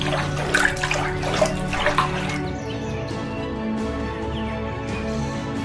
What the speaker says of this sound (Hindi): फिर चंपत रेवती को एक पेड़ की छांव में लेकर जाता है और उसे पानी पिलाता है